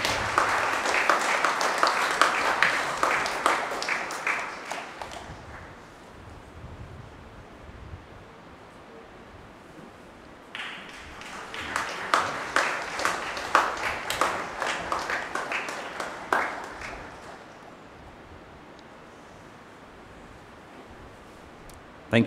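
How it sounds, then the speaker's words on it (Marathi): A church congregation applauds at a farewell ceremony, giving two loud bursts of clapping separated by a quieter stretch with faint voices. "टाळ्या येऊ द्या जोरदार."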